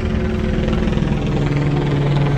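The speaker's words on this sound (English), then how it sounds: "We got two choppers in the sky." Steady loud rotor drone of police helicopters overhead during a car chase in Hemet, a continuous throbbing engine rumble with no other sounds.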